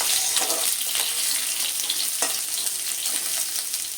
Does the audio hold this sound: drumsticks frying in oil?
yes